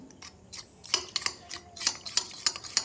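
Spoon stirring cornflour into water in a small bowl to make a slurry, heard as close, quick scraping and light clinking strokes in an irregular rhythm, with no talking.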